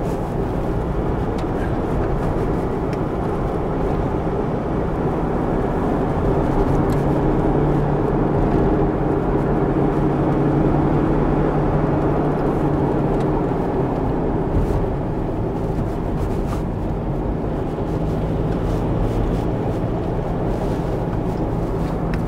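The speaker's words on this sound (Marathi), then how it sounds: "टायराचा आवाज येतोय. पट पट पट पट सिमेंटवर टायर चालतो ना तसं." A Toyota Innova rolls along a cement road on a Konkan trip, giving a steady, dense tyre roar and cabin rumble that stays at a constant level throughout with no voices.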